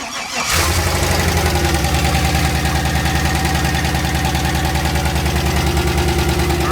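Turbo LS V8 swapped into a Ford Festiva cranks and catches, then idles loudly and steadily up close with a rough, grumbling rhythmic pulse and no voices over it.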